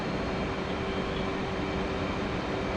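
The engine of an F/A-18C fighter jet in a flight simulator game roars as throttle is added, a dense, constant broadband rush with a steady whine throughout.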